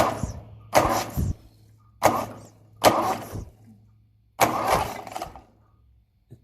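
A 1957 Ferguson 35 TVO tractor engine cranking over in four separate bursts with short gaps between them, close and loud, each attempt churning briefly before it stops.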